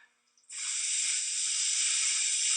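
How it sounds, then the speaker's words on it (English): Beef hits a hot oiled pan and breaks into a loud, steady sizzle that starts abruptly and holds at an even, bright hiss with no voices over it. "There's the sizzle you want. Right in that pan."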